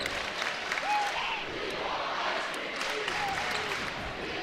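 Basketball fans cheering in an arena at a college game, a steady roar of crowd noise with scattered shouts and whistles, under nearby talk.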